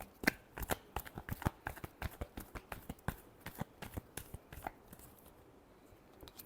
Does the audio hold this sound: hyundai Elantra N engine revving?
no